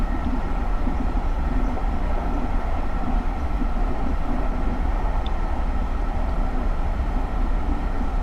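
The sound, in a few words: GE Silverliner IV train running, Train Simulator video game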